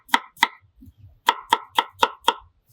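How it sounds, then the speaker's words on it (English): A knife chops diced onion on a cutting board while Mexican chilaquiles are being prepared: two quick strikes, a short pause, then five more evenly spaced, crisp and close, with no talking. "Let me go ahead and cut up this onion because we're going to need it eventually."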